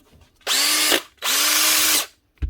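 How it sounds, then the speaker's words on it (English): Two bursts of a DeWalt cordless drill with a new chuck spinning up at close range, each running about a second at steady high pitch, separated by a brief pause. "One DeWalt cordless drill with a new chuck."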